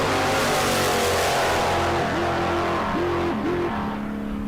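Drag race cars, a Monte Carlo and a Nova, run a bracket race, their engines droning loudly and steadily, then the throttle lifts and reapplies near the finish with pulsing revs.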